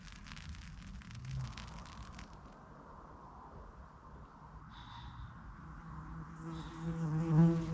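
A fly buzzes steadily inside a wild-camping tent, trapped between the inner and outer layers, its drone faint and continuous over a rustling background, swelling slightly louder toward the end.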